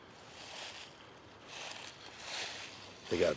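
Steady rushing water from a creek running through the backyard of an abandoned, run-down mansion, a soft broadband wash that swells and fades in gentle surges, with a brief closer knock near the end.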